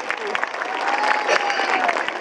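A crowd applauds steadily and fairly loudly throughout, with faint voices underneath.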